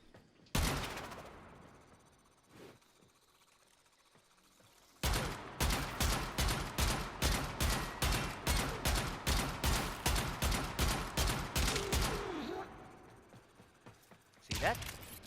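Secondary weapon fire in the video game Warframe: a few isolated shots, then a long, fast, evenly spaced run of loud sharp reports, ending with one more blast after a pause.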